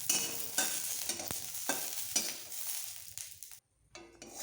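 Garlic and three chilies with a little black cumin fry and get stirred in a pan, crackling sizzle broken by repeated scraping stirs, close and fairly loud, cutting off briefly near the end.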